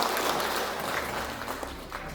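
Applause from an audience at a public talk, a broad steady wash of many hands clapping that holds for about two seconds with no voice above it.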